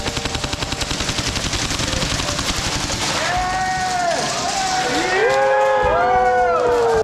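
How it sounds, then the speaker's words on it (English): A home-built HPA airsoft gun fires a rapid string of evenly spaced shots, loud and close. Sustained tonal whines and sweeps take over later. "You can still spam that trigger like crazy."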